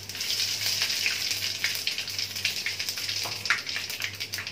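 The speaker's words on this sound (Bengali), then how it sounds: "দিয়ে মশলাটা একটু ভাজা ভাজা করে নি।" Panch phoron whole spices with two bay leaves sizzle and crackle in hot oil in a pan for Lakshmi puja cooking, a steady close frying hiss with small pops, no talking.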